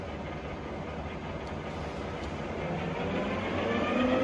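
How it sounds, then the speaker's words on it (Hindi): A Binns & Berry heavy-duty CNC lathe from England, 700 mm diameter by 4500 mm length, its spindle turning at 200 rpm, giving a steady broadband mechanical hum that swells slightly toward the end. "200 rotations per minute is the current spindle speed"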